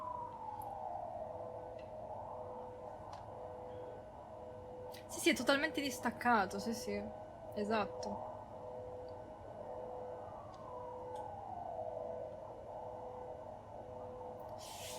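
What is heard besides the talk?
ambulance siren outside in video game Silent Hill 4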